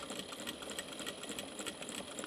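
A sewing machine stitches a seam on a tote bag, running at a steady, rapid pace with an even mechanical rhythm throughout, fairly quiet and with no talking.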